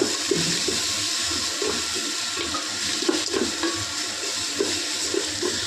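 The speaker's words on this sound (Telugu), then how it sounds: "టమోటా బాగా మగ్గిన తర్వాత ఎసురు వేసుకున్నాం" Water pours steadily into a pan of cooking tomato curry, a continuous rushing, gurgling sound that stays even and close for several seconds.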